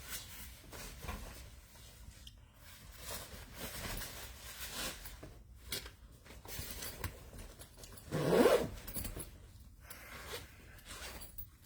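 A coat pocket zipper is pulled with soft, close scraping and rasping, faint against a quiet room, with one brief louder zip near the end.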